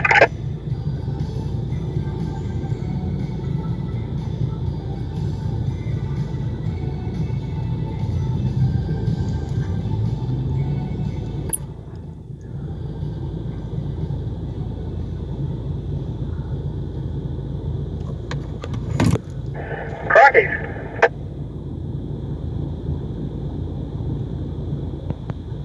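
A Volkswagen Amarok grinds up a sand hill on the west Yorke Peninsula, its engine a steady low drone under wind buffeting, dipping briefly midway before a few sharp knocks and rattles.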